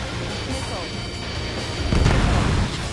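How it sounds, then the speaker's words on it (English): Missile launch in a video game, a rising rushing whoosh swelling into a loud low-frequency roar near the end, set against a dense bed of in-game battle noise with a voice briefly present. "Missile away."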